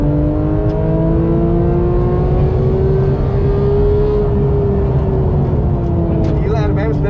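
Porsche GT3 engine revving hard during an onboard lap at Sentul Circuit, a loud continuous high-pitched wail that rises and falls with throttle while people talk over it.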